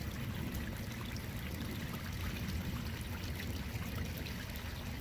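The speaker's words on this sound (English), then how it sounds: "I purchased this pump today with the hope of increasing the water flow off my waterfall." Water from a small pond waterfall, driven by a newly bought pump, splashes and trickles in a steady, dense rush that stays constant and close throughout, with no voices.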